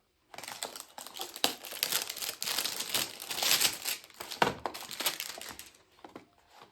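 Packaging crinkles and crumples as a gift parcel from the UK is unboxed, with loud rustling and occasional sharp tearing bursts at close range and no one speaking.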